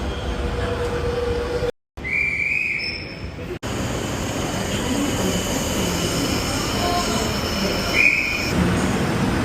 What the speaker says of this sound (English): it looks as though it is a big train that we're getting then as well